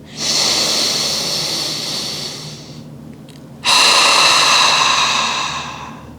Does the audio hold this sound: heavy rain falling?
no